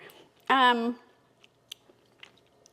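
Someone bites into crunchy mulberries with a brief voiced sound, followed by quiet, sparse chewing crunches and clicks close to the mouth.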